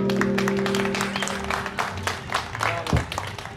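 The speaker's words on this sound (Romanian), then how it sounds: "Felicitări și aplauze" Scattered clapping and crowd applause at an outdoor draft horse pulling contest in Horodnic de Sus, Bucovina, with a steady hum and some background noise throughout.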